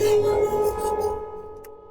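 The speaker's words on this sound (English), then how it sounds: "just some kind of weird tonal chirpy stuff that I made with phase plant" A short, weird tonal synth sound made with Phase Plant, chirpy and bright, sustains for about a second and then fades out, heard alone.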